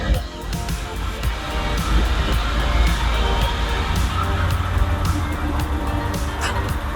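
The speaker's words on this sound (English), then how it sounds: "The transmission seems to be going in all the gears, although it's a little noisy." A BMW E30's noisy transmission running through its gears after a clutch replacement, a steady loud mechanical drone with repeated rattling clicks on top.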